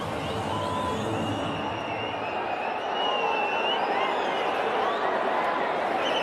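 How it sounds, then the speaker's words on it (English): A stadium crowd at a Celebrity Cricket League match between Karnataka Bulldozers and Telugu Warriors keeps up a steady, far-off roar and cheer, with whistles rising through the constant wash of noise. "Now the crowd is alive."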